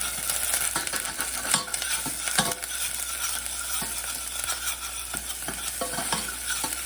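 A salad with onions is mixed by hand, with repeated scraping, tossing and light clinking strokes at an uneven pace, close up and with no talking.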